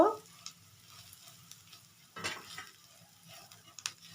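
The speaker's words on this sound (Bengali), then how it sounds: "এখন এগুলো আমি মশলাটা একটু ভেজে নেব" Dry ground spices (Kashmiri chilli, black pepper, turmeric, salt) being fried and stirred in a pan, with a quiet low sizzle and a few soft scraping and clinking strokes of a spoon against metal.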